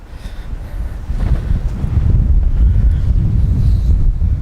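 Strong wind buffets the microphone outdoors on a golf course, a loud, continuous low rumble that grows heavier after the first second and stays steady, with no speech.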